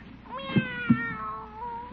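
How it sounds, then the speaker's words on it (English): A cat shut inside a gift box with a pink ribbon around its neck meows plaintively, a drawn-out, wavering cry with a couple of muffled thumps, fairly close and alone. "Why, it's a cat."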